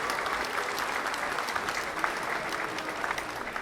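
Audience applause in a room after a boxing bout, a steady dense wash of clapping from the crowd that holds throughout, fairly close and with no voices over it.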